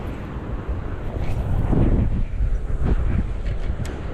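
Strong gusting wind buffets the microphone at a UK reservoir during pike lure fishing, a steady loud low roar that swells in the middle, with no talking.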